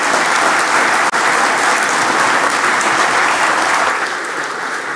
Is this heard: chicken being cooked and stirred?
no